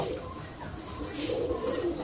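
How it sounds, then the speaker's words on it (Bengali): Soft pigeon cooing runs through the clip, low throaty murmurs repeating steadily over a faint background hiss. "পায়রাগুলো টোটালি বাইরেতে ঘুরে বেড়াচ্ছে"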